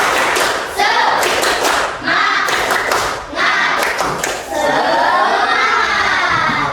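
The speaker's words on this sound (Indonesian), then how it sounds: "Kembali lagi, tepuk semangat." Primary-school children in a Grade 6 Indonesian-language class perform the tepuk semangat spirit clap chant: loud, close bursts of rhythmic group clapping and thumps mixed with shouted children's voices, in several quick phrases.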